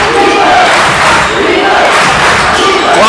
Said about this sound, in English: The crowd back into it.